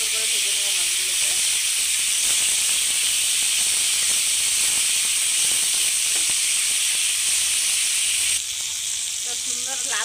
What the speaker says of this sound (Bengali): সুন্দর করে ভেজে নেবো মাছগুলোকে